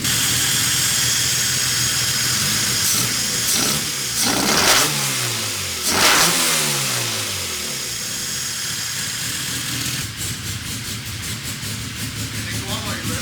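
Honda B16 engine in a street race car, about 200 whp, revving hard with rising and falling sweeps over a steady high idle, loud and close, with a burst of rapid revs near the end.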